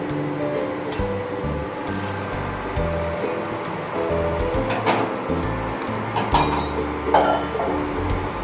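Lentil dal with banana flower being stirred in a cooking pot, steady close scraping and soft metallic clinks of the spoon against the pot over a low, continuous kitchen hum.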